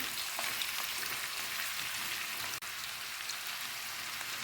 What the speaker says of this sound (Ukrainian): М'ясо гарно зажарилося.